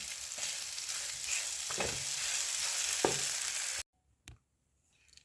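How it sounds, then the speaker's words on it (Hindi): Green chillies and coriander being mixed into a bread and potato mixture, with a steady loud scraping and stirring for a few seconds, then a sudden near silence broken by one short knock. "साथ में डाल देंगे 2 अदद सब्ज़ मिर्च और थोड़ा सा धनिया और अच्छे से मिक्स कर लेंगे"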